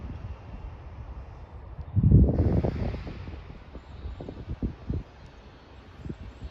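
A cool wind blows outdoors in the countryside during an evening trip to forage wild vegetables, with steady rushing air, a strong gust that buffets the microphone, and scattered rustling.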